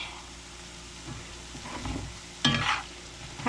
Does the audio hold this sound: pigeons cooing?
no